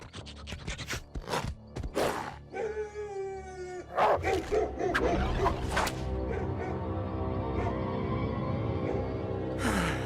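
Cartoon hunting dogs bark and howl in short, excited bursts, close and fairly loud, followed by a sustained howling chorus.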